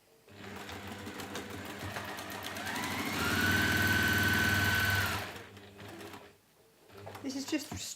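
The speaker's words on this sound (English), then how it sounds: "This is just straight line sewing" A sewing machine runs a continuous straight-line seam on a fabric pouch, a steady close mechanical whirr lasting a few seconds before stopping, with quieter handling noises around it.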